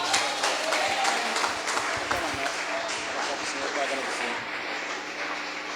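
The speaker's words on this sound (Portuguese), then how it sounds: "Aplaudam ao Senhor." A church congregation claps its hands during a service: a dense, continuous patter of applause, moderately quiet and sustained throughout.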